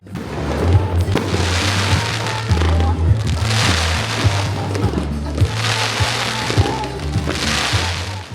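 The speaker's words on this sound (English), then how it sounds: "The fireworks are ignited at the Marianas Beach Resort." Fireworks set off at midnight at Marianas Beach Resort, a dense continuous barrage of crackling bursts and booms over several seconds, loud and steady with recurring louder swells.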